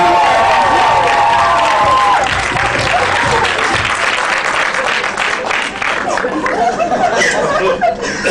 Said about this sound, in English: Let's have a round of applause for Miss Georgia